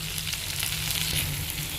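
Gobindobhog rice being dry-fried in a pan gives a steady, soft sizzle with a low hum beneath it, continuous and close, with no voices.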